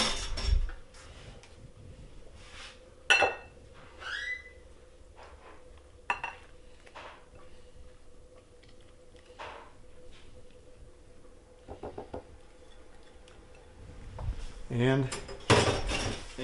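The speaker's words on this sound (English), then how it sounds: "Got all our wet ingredients together. Mix that up." Wet cornbread ingredients mixed in a bowl with a utensil, soft scraping and clinking of cutlery against the dish, intermittent and close, with a few louder knocks near the end.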